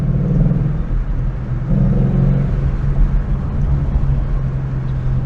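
A 2014 Ford Mustang GT, whose engine had a P219A fault code, rumbles loud and low while being driven, with a deep, steady drone that swells briefly as it pulls, heard from inside.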